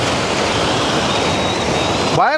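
A roaring waterfall near Thamaraipakkam dam outside Chennai gives a dense, loud, continuous rush of falling water, close and steady, then breaks off abruptly at the end.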